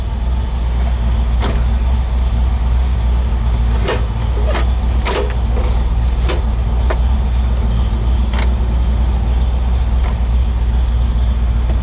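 A 1965 Pontiac GTO convertible runs steadily after starting, its loud, constant engine rumble dominating throughout, with a few sharp clicks and knocks scattered over the idle.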